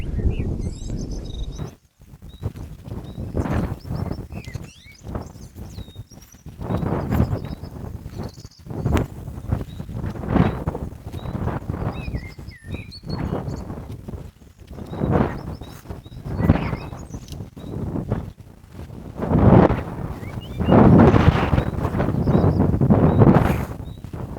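Strong wind buffets the microphone in loud, uneven gusts that roar and fade for the whole stretch while carp fishing, with faint high chirps in the background.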